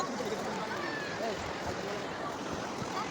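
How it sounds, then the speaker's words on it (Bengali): Sea waves wash onto the shore at Digha beach, a steady broadband rush with wind noise throughout, while a person talks over it. "সেই ঢেউ হচ্ছে, দেখেছো।"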